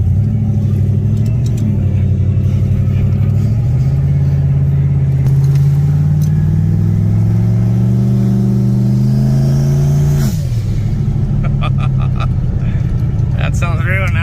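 Cars driving past at a car, truck and motorcycle show, a loud rumbling engine drone that swells and shifts in pitch as vehicles move by, with people talking over it.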